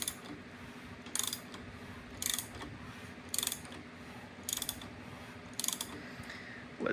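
A forged stroker BMW M52B30 rotating assembly being turned over by hand on the engine stand, giving five evenly spaced bursts of mechanical clicking and ratcheting over a low steady hum.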